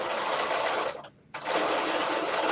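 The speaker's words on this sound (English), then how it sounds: "I was thinking I was sewing through all the layers" A home sewing machine stitching through layers of fabric on a New Look 6667 garment, a fast, even whirring chatter close by that stops briefly partway and then starts again.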